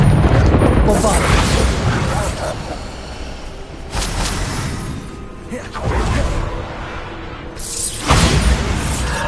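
Heavy spell explosions from the Bombarda charm in the video game Hogwarts Legacy, occurring as several loud booming blasts about every two seconds, each with a crashing whoosh. A player shouts spell names over them.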